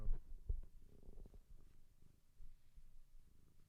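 A cat purrs right up against a microphone during a livestream, a soft low rumbling purr with a few thumps at the start, quiet and steady, with no talk.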